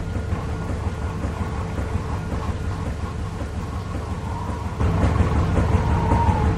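Storm in The Walking Dead Season 2 video game: a steady roaring wash of wind and rain-like noise that swells louder near the end, with no voices.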